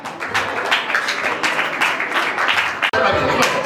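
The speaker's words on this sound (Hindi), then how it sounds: "ताली बजाओ, जोर से दबाओ।" An audience claps at a Jain temple cultural program during the Daslakshan festival in Rohini, Delhi, with a dense, steady burst of applause and a brief cutout near the end, while a voice speaks over it.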